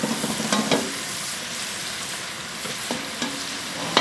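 Loud, continuous sizzle of onions frying in a pan for bagara rice, with periodic stirring scrapes and clatters, close up and without talk.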